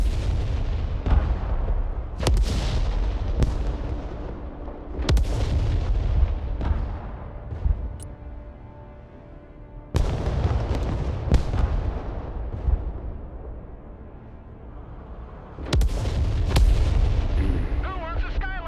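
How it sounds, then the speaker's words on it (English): Artillery fire in the military strategy game Broken Arrow, heavy booming blasts landing repeatedly at irregular intervals over a steady rumble, some sharp and near, others duller and distant, with faint voices now and then. "I think this is where the artillery is coming from."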